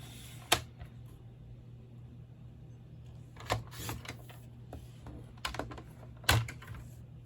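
A paper trimmer cuts sheets of cardstock. It makes a few sharp, separate clicks and slicing snaps with quiet gaps between them, heard up close in a still room.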